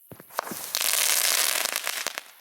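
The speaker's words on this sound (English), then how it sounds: "You then hit them on the ground like that, and then they make such a pretty effect" Ball fireworks are struck against the ground in the video game Fireworks Mania, setting off a few sharp pops before a dense, hissing burst of crackling that fades into scattered snaps.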